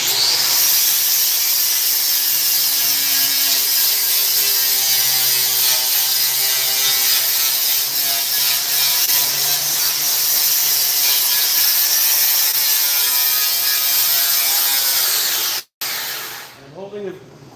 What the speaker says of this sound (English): now I'm going to take the flapper here and go over my weld seam here